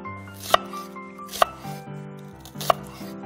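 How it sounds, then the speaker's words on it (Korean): Three sharp knife strokes cut through zucchini slices about 5 mm thick on a cutting board, spaced evenly and crisp against a faint background hum. "호박은 5mm 두께로 썰어주시고요"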